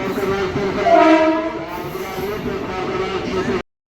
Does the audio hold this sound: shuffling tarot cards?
no